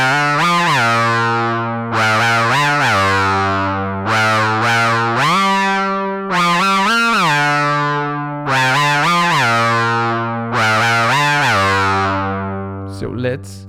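Moog Grandmother synthesizer playing a vocal lead patch, a loud, buzzy, harmonically rich riff of sliding, gliding phrases repeating in bursts with short gaps, heard alone.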